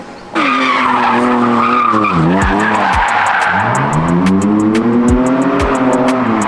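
A BMW E46 engine revs hard while drifting on a street, tires squealing and skidding, the pitch sweeping down and up through several slides, with sharp clicks near the end.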